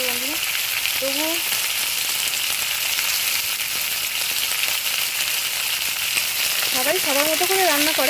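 Potatoes frying in a pan: a continuous loud sizzle and crackle throughout, with someone speaking briefly over it near the start and the end.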